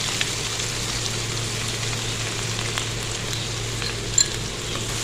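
Chopped onion, cut in omelette-style pieces, frying in a pan for a potato masala, giving a steady, even sizzle with a faint continuous crackle throughout, alone with no talk.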